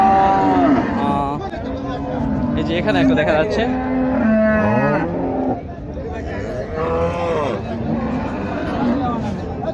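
Friesian dairy cows moo repeatedly at a busy Raniganj cattle market, several long, loud, close calls rising and falling over a crowd's chatter and someone speaking nearby.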